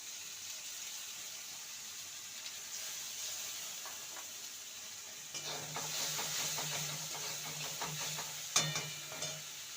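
Quiet background hiss gives way to louder scraping and sizzling as a ground mustard and poppy seed paste is stirred in a hot pan, with a sharp clack near the end.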